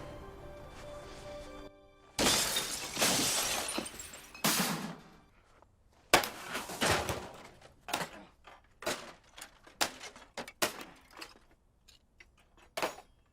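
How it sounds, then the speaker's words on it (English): A computer being smashed in a film scene: repeated heavy crashes and shattering blows in irregular bursts, loud hits separated by brief pauses, with a hum before the first strike. "Fireproof, where Kirk Cameron notoriously smashes a computer"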